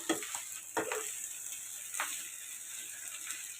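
Curry frying in a pan in a home kitchen: a soft, steady sizzle with a few sharp scraping clicks from stirring near the start and again around two seconds, fairly quiet throughout.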